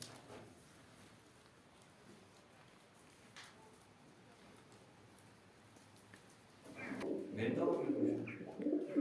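Pigeons in a village loft, quiet ambient noise at first, then low throaty cooing swells up close and continues for the last couple of seconds, with people talking.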